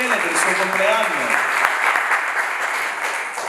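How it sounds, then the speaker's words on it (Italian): An audience applauds for Rachele's birthday with sustained, dense clapping that stays fairly loud, while a voice talks briefly over the start. "facciamo un grosso applauso a Rachele per il suo compleanno"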